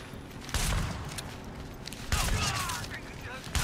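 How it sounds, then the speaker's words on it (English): Shotgun blasts boom in The Division, three heavy shots spaced about a second and a half apart, each followed by a rolling decay, loud against a busy game background. "See, what I'm doing here with the shotgun"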